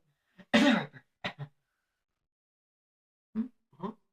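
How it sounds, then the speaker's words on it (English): A single sharp, loud cough bursts out, followed by a few smaller throat-clearing sounds, then quiet, then two softer coughs. "I can only cough so clearly"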